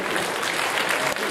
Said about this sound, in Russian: Под ваши аплодисменты